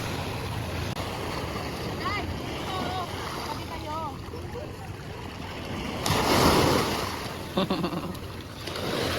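Ocean waves wash and roll in a steady roar with gusty wind, swelling into a louder surge near the end; voices and chatter are faintly mixed in.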